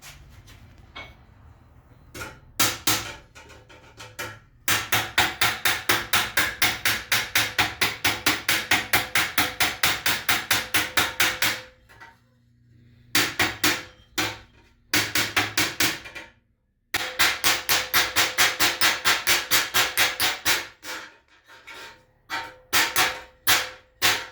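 Rapid metal hammering as the last rivet is set into a helmet, dense bursts of quick, loud, evenly spaced blows broken by short pauses, with no talking.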